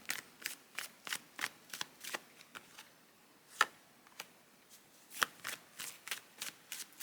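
Tarot cards being shuffled by hand, a close series of crisp riffling bursts in an irregular rhythm, each snap short and distinct against a quiet room with no talk.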